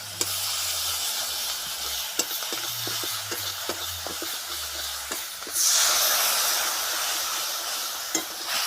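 Whole cumin and garam masala sizzle in hot oil with a steady hiss, broken by occasional sharp pops and spatula taps, and a sudden louder burst of steamy sizzling midway through.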